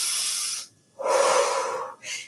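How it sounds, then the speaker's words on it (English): Heavy breaths during an exercise class, loud and close: a long forceful exhale, a pause, then another long breath and a shorter one, with no talking. "take a breath in, exhale"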